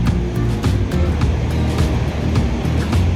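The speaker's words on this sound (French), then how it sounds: "Il vient dans les vagues là, il vient assez vite" Waves break along the shore at a Moroccan fishing village as a fishing boat comes in, giving repeated surging washes over a low motor rumble, fairly loud and close, with no speech.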